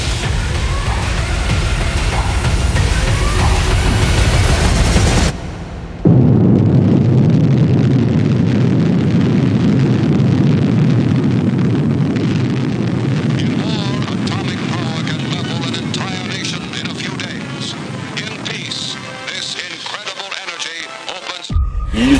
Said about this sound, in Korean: 원자폭탄이 폭발을 했습니다